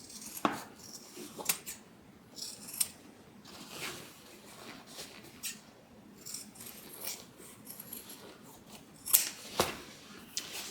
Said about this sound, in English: let's trim these corner seam allowances down